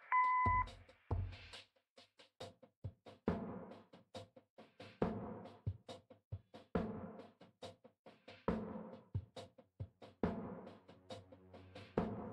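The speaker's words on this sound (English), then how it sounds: "Leave a message after the beep." An answering machine in the video game Kathy Rain gives a short, clean electronic beep at the start, followed by a quiet stretch of scattered knocks and soft clicks.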